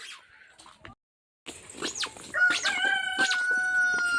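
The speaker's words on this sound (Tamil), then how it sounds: "கோழி கத்துதாம்மா" After a few faint scratches and a short silence, a rooster crows loudly and close by, its call stretching out with other bird noises around it.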